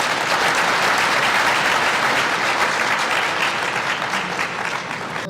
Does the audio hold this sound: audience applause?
yes